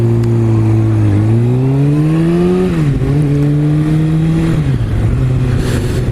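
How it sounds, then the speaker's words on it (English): Kawasaki Ninja ZX6R 2016 sport motorcycle engine held at steady high revs, pitch rising and dipping slightly as the throttle varies, loud and close throughout with no talk. "So consequently you have to rev it up a bit more."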